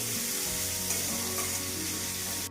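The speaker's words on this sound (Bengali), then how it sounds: "এবার পেঁয়াজটা ভেজে নিই" Onions sizzle steadily in hot oil for a vegetable biryani, a dense loud crackling hiss that runs without a break and cuts off abruptly at the end.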